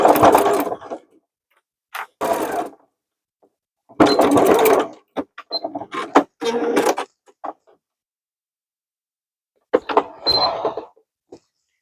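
A sewing machine stitching denim, in several loud rattling bursts of fast needle strokes separated by silent pauses, close and alone.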